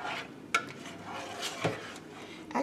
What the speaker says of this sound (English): So give this a stir.